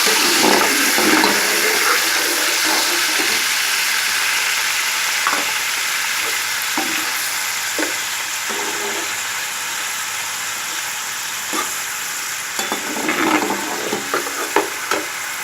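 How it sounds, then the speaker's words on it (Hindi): Onions frying in hot oil in a kadhai give a steady, loud sizzle throughout, with occasional sharper crackles and spatters and faint stirring clatter, with no talking. "मैंने कढ़ाई में ऑयल को गर्म करने रख दिया था। इसके बाद मैं इसके अंदर प्याज ऐड कर रही हूँ।"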